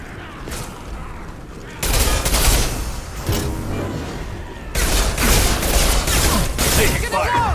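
Sustained gunfire in Mass Effect 2 combat, with dense overlapping bursts and booms in loud waves, while voices call out over the shooting.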